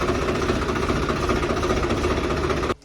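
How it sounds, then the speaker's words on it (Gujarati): A tractor engine runs with a loud, close, steady knocking rumble for a few seconds and then cuts off abruptly. No one speaks. "હવે આપણે મિત્રો છે ને નાનકડો એવો સેલ મારી દઈએ ટ્રેક્ટરનો"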